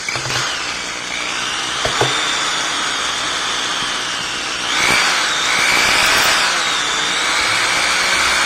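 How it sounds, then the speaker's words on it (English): A high-pitched electric mixer motor whines steadily while blending soap, rising and shifting in tone as it churns, with a few light clicks and no talking. "Now watch your ears, you're going to get that weird drill sound."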